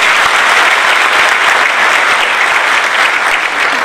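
A political party rally crowd applauds loudly, a dense steady roar of many hands clapping close by, continuous throughout with no speech.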